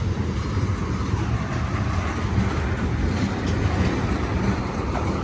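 Train rolling past a railroad crossing on the Blue Ridge Parkway in Virginia, loud, close and continuous rumble with rail clatter throughout.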